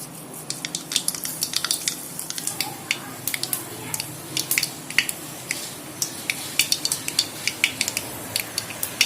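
Mustard seeds dropped into hot oil in a pan while cooking fish curry, giving a steady low sizzle scattered with sharp, irregular pops and crackles throughout, fairly close and with no speech.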